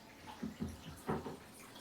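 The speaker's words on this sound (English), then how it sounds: "And I give it a quick stir," Soft swishing and sloshing of water being stirred in a film-developing stop bath tank, a few quiet splashy strokes, faint and close.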